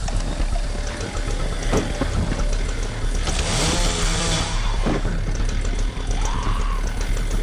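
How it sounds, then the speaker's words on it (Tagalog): A chainsaw drones steadily in the Into The Dead 2 zombie game, a constant buzzing engine close up with small surges and background game effects. "Chainsaw."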